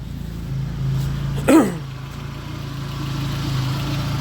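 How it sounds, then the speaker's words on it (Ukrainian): A car engine idling steadily at low, even volume throughout, running on two-year-old petrol, with a brief louder burst of another sound partway through. "ну, воно і так видно і чуть, що моторчик робить класно"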